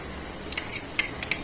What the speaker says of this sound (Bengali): ঘিটা দিয়ে একটু নাড়াচাড়া করব